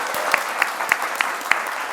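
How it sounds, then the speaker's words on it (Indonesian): Studio audience applause on an Indonesian televised political talk show: a soft wash of clapping with a few louder, evenly spaced claps standing out near the front. "Tepuk tangannya boleh, teman-teman."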